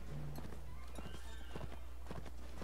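Horse hooves clip-clopping in the Mount & Blade video game during a siege battle, a quick run of sharp hoof knocks over a steady background hum, with faint voices mixed in.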